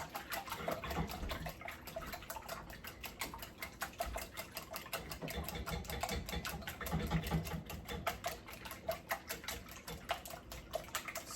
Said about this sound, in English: whisk these until they're light and fluffy, okay? We'll just whisk them up.